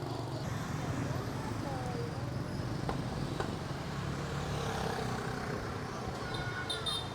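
Busy street traffic in Vietnam with motorbikes and cars: a faint, steady wash of engines and road noise with occasional light clicks, heard from a distance.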